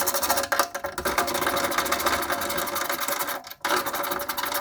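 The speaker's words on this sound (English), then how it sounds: "now we're going to get our ratchet and get these two bolts out" Steady, fast mechanical rasping of a ratchet working bolts loose while removing the side windows on a Grand Wagoneer, up close and continuous, with a couple of brief pauses.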